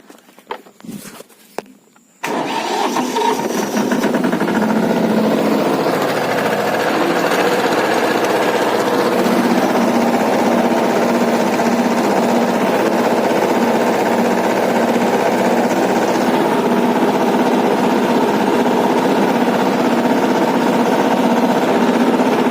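After a few seconds of quiet rustling and knocks, a tractor engine starts and runs steadily while a rotavator ploughs a farm field, giving a continuous loud droning rumble that holds at an even level for the rest of the stretch.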